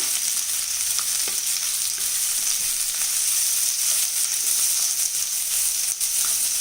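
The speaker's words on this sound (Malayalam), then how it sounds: "ഇനി നമുക്ക് 2 സവാള അരിഞ്ഞു വെച്ചിരിക്കുന്നത് ഇട്ട് കൊടുക്കാം. ഇളക്കി മിക്സ് ചെയ്ത്" Two chopped onions sizzle loudly in a hot pan while being stirred for a chicken perattu, with a dense, continuous hiss and faint scrapes of the spoon and no voices.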